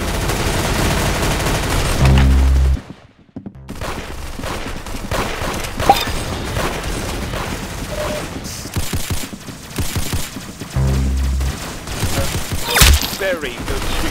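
Sustained rapid gunfire on a shooting range, long rattling bursts with a brief quiet gap, the crackle close and loud throughout with no talking.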